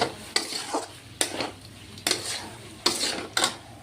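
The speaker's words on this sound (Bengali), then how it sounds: "আদাটা দিয়ে দিচ্ছি দিয়ে এখন আর একটু কষিয়ে নিই" Potato and papaya with salt and ginger stir-fried in a pan, with a spatula scraping in distinct strokes roughly every half second to second over a soft sizzle, close and clear.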